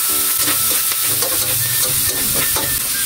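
Sliced chicken, onion and red and green chilies sizzling loudly in a pan, a steady close hiss of frying with occasional stirring scrapes and clinks throughout.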